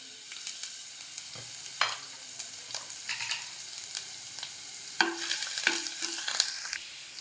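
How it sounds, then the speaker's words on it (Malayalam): Chopped ginger frying in hot coconut oil in a pan, a steady close sizzle with scattered spoon-stirring clicks and scrapes throughout, no voices. "നമ്മൾ അരിഞ്ഞു വെച്ചിരിക്കുന്ന ഇഞ്ചി ചേർത്ത് ഒരു ഗോൾഡൻ കളറാകുന്നത് വരെ നമുക്കൊന്ന് ഫ്രൈ ചെയ്തെടുക്കാം"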